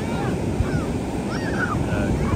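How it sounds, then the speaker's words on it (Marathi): Sea waves breaking on a Konkan beach at sunset, a continuous wash of surf with wind buffeting the microphone and faint distant voices in the background. "सो बघा सय बघा भिजली मोठी लाट आली."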